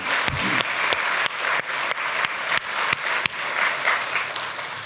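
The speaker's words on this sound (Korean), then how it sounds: "찬양대 너무 잘했어요. 박수." A church congregation applauds its choir after a hymn, continuous clapping with a few sharp, loud individual claps standing out near the front.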